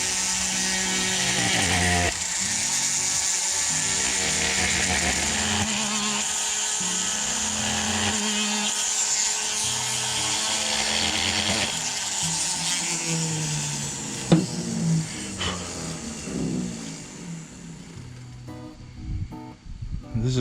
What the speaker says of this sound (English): So I'm just going to drill some pre-drill some holes here to get the drill bit started.